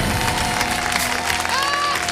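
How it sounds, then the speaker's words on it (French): An audience applauds steadily, a dense, sustained wash of clapping with some cheering mixed in, loud and continuous throughout. "merci d'applaudir la légende vivante"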